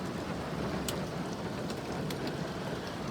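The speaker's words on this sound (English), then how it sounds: "It is downpouring." Heavy rain pours down in a dense, steady hiss, with a few sharper drips standing out, in American Truck Simulator.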